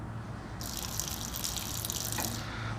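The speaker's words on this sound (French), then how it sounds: "Vous avez vu, le jet d'eau il est très fin et c'est économique." A thin, economical stream of water runs from a bathroom tap used for handwashing, a steady close hiss that starts abruptly and stops near the end.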